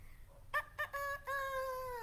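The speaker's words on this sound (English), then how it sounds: "look how boastful the rooster crows" A rooster crows nearby, a short stuttering start followed by a drawn-out, slightly falling call heard on its own against a quiet background.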